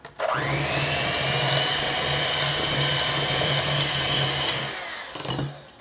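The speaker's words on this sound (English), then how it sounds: "we are going to mix these together, creaming the sugar with the butter" Electric stand mixer whirring steadily as it creams brown sugar and butter for chewy macadamia nut cookies, a loud continuous motor drone that starts abruptly and cuts off near the end, followed by a brief clatter.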